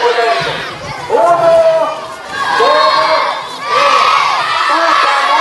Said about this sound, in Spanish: Y vamos a gritar fuerte.